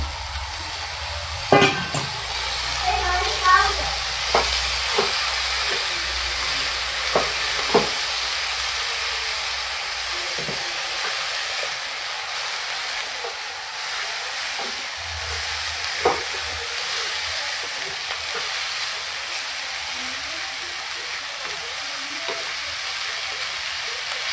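Potatoes and fenugreek leaves cook in a pan over low gas, giving a long, steady hiss of steam and gentle sizzling with a few faint clinks and knocks.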